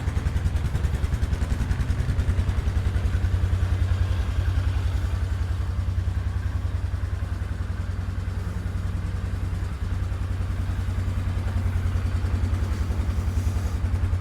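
A 1997 Polaris Sportsman 500 quad idles steadily up close, its single-cylinder thump beating in a fast, even rhythm with light clatter for the whole stretch and no other sounds.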